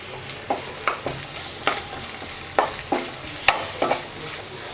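Finely chopped small onions (shallots) frying in oil for a chicken curry, a steady sizzle broken by regular scraping stirs about every half second, close and fairly loud with no talking.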